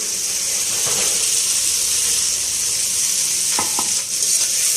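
Okra dropped into frying spice masala gives a loud, continuous sizzle with a couple of brief stirring knocks near the end, no voices.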